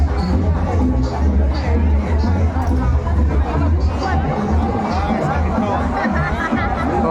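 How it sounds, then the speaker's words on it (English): A dense crowd chattering outdoors in Comuna 13, Medellin, a loud, continuous babble of many voices close around with no single voice standing out. "See the crowd, crowd of people."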